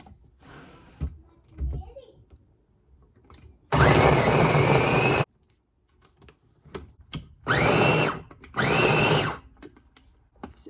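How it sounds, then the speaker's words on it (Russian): An electric chopper whirs in three short loud bursts chopping onion with its skin, blades spinning up and winding down, separated by quiet handling clatter. "я использую такую штуку, измельчитель, для того, чтобы лук измельчить"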